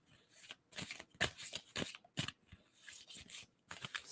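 Tarot cards are shuffled in a handful of quick, close papery bursts separated by brief pauses, heard alone without speech.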